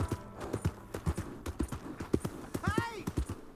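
Hooves clip-clop in a regular walking beat as a horse moves along in Red Dead Redemption 2, close and distinct, with a brief whinny partway through and someone talking over it.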